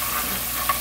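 Bean sprouts for bibimbap are stir-fried in a pan, giving a steady close sizzle with faint scraping as they are turned, and no voices.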